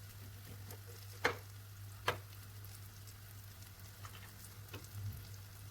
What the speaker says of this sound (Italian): Allora metto la cipolla nella stessa padella, la meschio per qualche minuto, la copro e la lascio per cuocere.